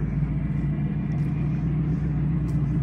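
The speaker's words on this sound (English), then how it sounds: "Let your clutch up and just let it chug back on tick over." An Abbot tracked vehicle's engine chugs at tick over, a steady, loud, low rumble that holds evenly throughout with no voices.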